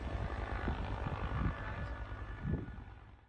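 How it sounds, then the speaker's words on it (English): A Bell utility helicopter spraying bracken over woods drones loudly overhead, its rotor thudding steadily in rhythmic pulses while the engine roar fades slightly toward the end. "the helicopter they used was a Bell utility helicopter"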